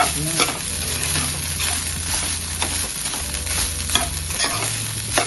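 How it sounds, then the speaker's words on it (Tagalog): Butter chicken stirred in a sizzling pan after black pepper goes in, a steady close frying hiss with a spoon scraping and stirring throughout. "Tapos i-mix na natin yan, ha."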